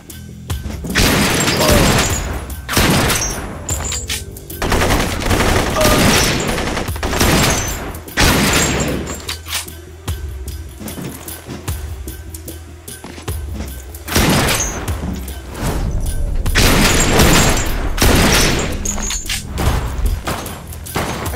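Repeated gunshots and heavy booming blasts in the Blue Estate shooter game, firing in uneven bursts throughout, loud and close, with a quieter stretch midway.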